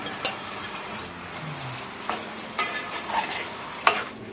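Fried eggplant pieces tumble into masala in a cooking pot for eggplant biryani, giving a soft stirring and sizzling bed with a few sharp spoon clinks against the metal.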